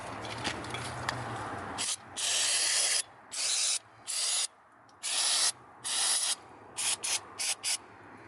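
Carburetor choke cleaner sprayed onto a car door hinge in a series of short, loud hissing bursts, several spaced apart and ending with quick rapid puffs.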